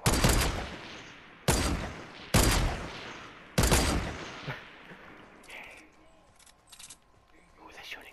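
Gunfire in the video game Fortnite during a duo match, four sharp loud shot bursts spaced about a second apart followed by quieter distant crackles, with a player talking under the later part.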